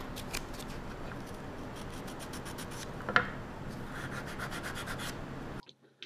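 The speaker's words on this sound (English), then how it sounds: "so I used the sanding block to clean them up." A sanding block rubs along the chamfered edges and corners of wooden 3D puzzle cube pieces in quick, close, rhythmic scratchy strokes, with one sharp knock midway before it stops abruptly.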